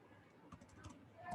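Short bursts of clicking keystrokes on a computer keyboard, close and faint, as a tag name goes into SCADA software, with a soft voice murmuring underneath.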